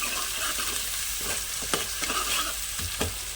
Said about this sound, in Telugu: ఉల్లిపాయలు, పచ్చిమిరకాయలు, కరివేపాకు, ఉల్లిపాయ జీలకర్ర కొంచెం దోరగా వేగనిస్తున్నామండి